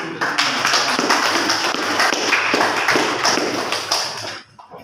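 Classroom applause in a teaching-practice lesson: dense, steady clapping from a group of students for about four seconds, fairly loud and close, then tapering off quickly at the end.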